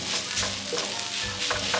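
Food sizzles and fries on an oiled griddle seasoned with garlic salt and black pepper for a breakfast pizza, a steady dense crackle close by with no talking.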